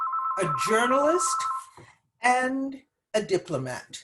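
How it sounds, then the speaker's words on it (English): A telephone rings with a robocall, a steady electronic tone sounding at the start and fading out under a man's speech, followed by more talking. "Excuse me, that's my phone."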